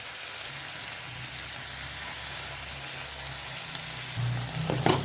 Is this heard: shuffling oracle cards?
no